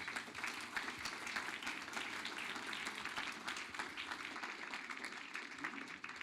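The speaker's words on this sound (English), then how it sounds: "I'd like to ask everyone to give Ethan a well-deserved round of applause" Steady, dense audience applause at an evening talk event, a faint but continuous wash of many clapping hands with no voices over it.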